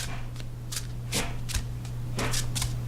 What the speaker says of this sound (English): So let's attempt to shuffle these cards.